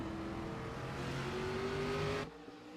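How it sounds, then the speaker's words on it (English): Race cars in a racing video game roaring as they accelerate down into turn one at Auto Club, a loud blend of rising engine whine and revving that swells steadily, then cuts off sharply near the end. "Everybody gets on that loud pedal and comes storming down into turn number 1"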